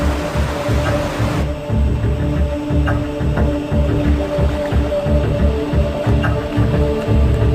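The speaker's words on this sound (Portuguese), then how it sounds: "Bombas imensas são ligadas e a água jorra para a enorme piscina." Huge pumps filling a dry dock basin for a Typhoon-class submarine send out a continuous loud, throbbing mechanical drone with a steady low hum and rushing water, constant throughout.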